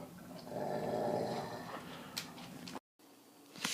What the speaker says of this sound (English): if you heard the dog growl, he needs to go out